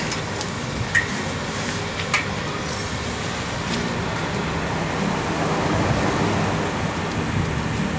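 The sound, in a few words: ocean waves on a sandy beach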